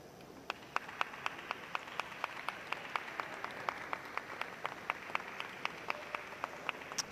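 Sparse audience clapping for a kata athlete from Chinese Taipei at the Karate Premier League in Dubai, distinct regular claps at a moderate distance over a quiet hall hiss, steady and unhurried.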